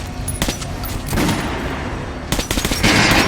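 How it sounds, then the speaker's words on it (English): Gunfire at training dummies on a shooting range in the video game Metro Last Light, with dense bursts of rapid shots that run almost without a break and grow louder toward the end. "Try shooting for the center of the regular dummy chest."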